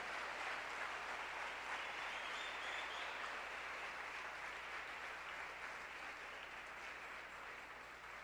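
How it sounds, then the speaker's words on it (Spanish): A church congregation gives a faint, distant, steady round of applause, with a continuous even wash of clapping and no clear voices. "Denle un aplauso a nuestro Dios si me entiende."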